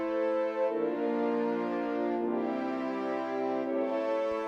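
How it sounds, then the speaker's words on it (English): French horns enter in a song cover, playing broad, sustained, majestic tones that swell and fade in slow phrases at moderate loudness, with no talking. "And then we have the French horns that come in for the first time."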